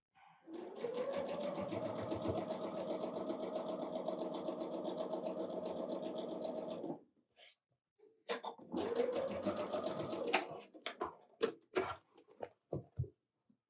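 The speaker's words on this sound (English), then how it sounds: "So I'm going to get these sewn." Domestic sewing machine stitching quilt pieces for a snowman quilt, a close, steady whirring run of about seven seconds, a pause, then shorter bursts and a few quick stops and starts.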